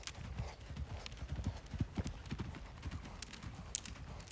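Hooves of a horse cantering through an obstacle course at a jumping lesson beat out a steady, rhythmic clip-clop on soft ground, moderately close, with a faint snort and a sharp click near the end.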